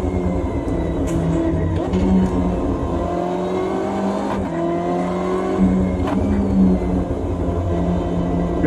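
BMW M8 GTE race car pulling away on fresh tyres at the Nordschleife during an endurance run, a loud continuous engine drone with rising and falling revs, heard close from onboard.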